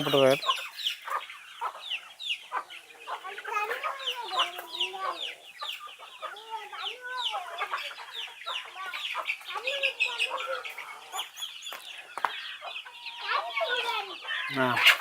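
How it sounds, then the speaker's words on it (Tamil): Many chickens cluck and squawk continuously and close by, a busy overlapping chorus of calls with a few faint voices underneath. "சித்துவான் வளர்க்குறாரு கோழியை பாருங்க"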